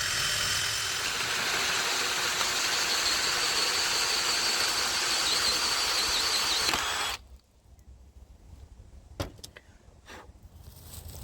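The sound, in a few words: drill boring center hole for go kart wheel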